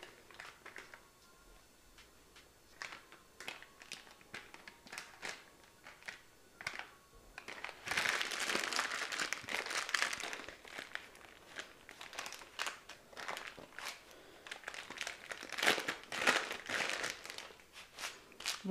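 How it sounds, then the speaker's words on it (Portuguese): A plastic piping bag is filled with buttercream, giving soft crinkling and rustling plastic sounds with scattered sharp crackles, quiet at first and growing louder and denser in the second half. "deixa eu só encher aqui a minha manga de confeitar, ou saco de confeitar"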